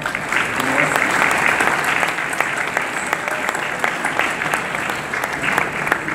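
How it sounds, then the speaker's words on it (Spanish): Sustained applause from a crowd, steady and dense clapping that continues without a break at a consistent loudness. "Aplaudimos ahora."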